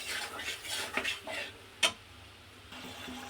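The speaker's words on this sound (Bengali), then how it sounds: "একটু নেড়ে চেড়ে নেবো, সামান্য একটু জল দেবো" Prawn curry is stirred in a pan, with quiet scraping strokes, a few light clinks and one sharp tap against the metal, over a faint low background.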